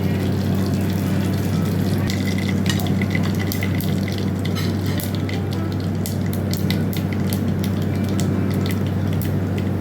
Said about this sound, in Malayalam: വെളിച്ചെണ്ണ ചൂടായി കഴിഞ്ഞു കടുക് ഇടണം